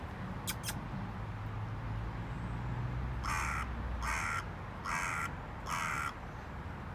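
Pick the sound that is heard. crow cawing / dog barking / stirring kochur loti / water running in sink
crow cawing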